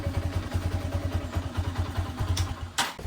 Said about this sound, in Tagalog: Ang TMX kasi pag nalamig ng konti ito talaga, ganyan po ito, mga may makina talagang hard starter po.